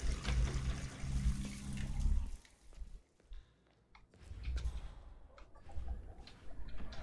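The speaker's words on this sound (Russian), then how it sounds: "Включаем воду" A water tap runs in the video game Hitman 3. A loud gush of flowing water fills the first two seconds, then it drops to a quieter, intermittent trickle and splash.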